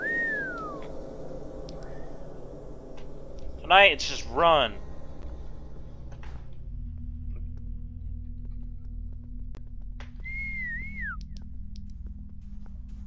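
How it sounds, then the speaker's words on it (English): Short whistled tones in a video game, a sliding whistle at the start and another wavering one near the end, with a pair of bright chirping bursts and speech in between over a low background hum. "I tried to whistle."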